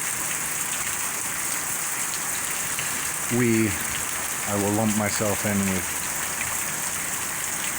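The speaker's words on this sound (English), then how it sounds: "You can tell the rain mostly comes in from the winds are coming in from the south, probably southwest, so from the ocean." Steady storm rain pours down in a coastal setting, with wind-driven rain from the south off the ocean, a continuous dense hiss throughout, while someone talks briefly over it.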